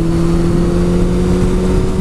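A 1999 Kawasaki ZZR600 motorcycle in fifth gear pulling from 90 to 110 produces a loud, steady, close engine drone with a constant tone and rushing wind over the short stretch.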